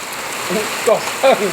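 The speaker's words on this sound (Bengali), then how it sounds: "কিন্তু বৃষ্টি পড়ছে" Rain falls steadily outdoors just after a hailstorm, a soft even patter heard under a person talking nearby.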